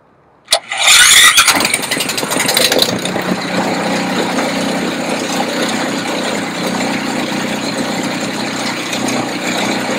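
A remote-controlled robotic snow blower's engine cranks briefly, catches with a loud burst, then settles into a steady, fairly loud idle that runs on alone.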